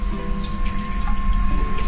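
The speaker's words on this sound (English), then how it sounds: "you press the faucet, and we have not that cold water" Cold water runs from a press faucet into a sink in an Airbus A319 aircraft lavatory, a steady close hiss and splash under the constant hum of the cabin, with no talk.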